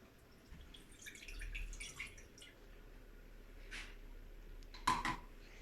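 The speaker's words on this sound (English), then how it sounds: "add some water to it" Water being added to a pressure pan while cooking pav bhaji, heard as faint scattered drips and splashes over a quiet background, with a brighter splash near the end.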